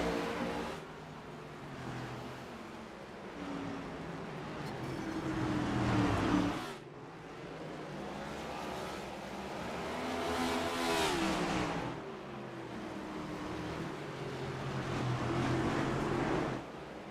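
Race cars roar along the Chicago street circuit, engine noise swelling and fading continuously as cars pass, loud and steady throughout with no talk.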